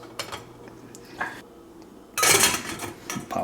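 A stainless steel lid set onto a Farberware percolator gives a bright metallic clatter, a loud clink and rattle after a few softer taps, then a couple of lighter clicks.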